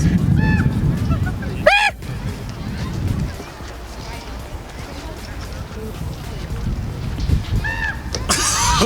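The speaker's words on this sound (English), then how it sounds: "There's a bird over there." A bird honking near Old Faithful in Yellowstone, a few short goose-like calls early, midway and near the end, heard over outdoor crowd chatter and wind.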